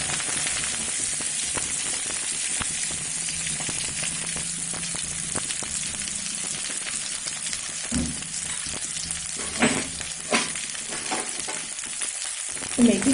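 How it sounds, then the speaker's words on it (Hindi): Fenugreek leaves frying in oil in a pan over medium heat, a steady loud sizzle with crackle throughout and occasional stirring knocks, close up. "इसलिए इसे 1 मिनट हम अच्छे से तेल में भून लेंगे।"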